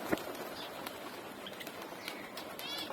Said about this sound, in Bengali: এই যে কবুতরগুলো নামতেছে উড়াইছিলাম